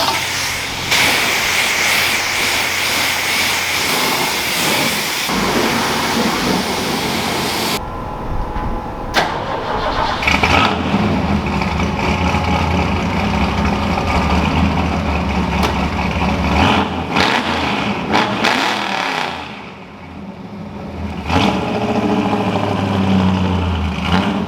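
Ford Galaxie engine cranking and catching, then settling into a steady, fairly loud idle around 1100 rpm, with a brief dip in the middle before the rumble resumes.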